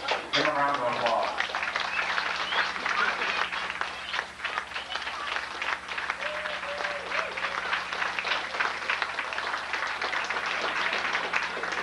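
Banquet audience in Kenmare, Ireland giving a sustained round of applause for the O'Neill Morley descendants, dense clapping from a sizable room with a voice briefly heard at the start.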